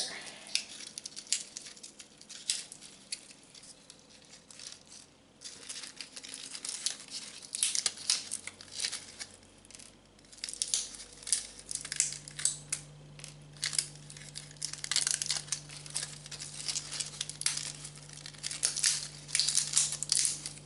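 Dry, brittle crackling and crunching as dry bean pods are snapped and split by hand, with irregular bursts of rustling and crinkling, close up and without talk.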